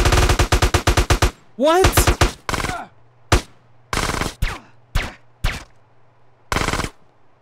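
Rapid bursts of automatic gunfire from GTA: San Andreas, loud and close, then a pause with a brief spoken exclamation and scattered single shots over a low engine-like hum.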